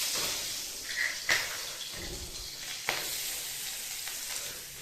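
Chillies frying in oil for aloo bharta, a steady close sizzle with a few brief crackles and spits, no talk.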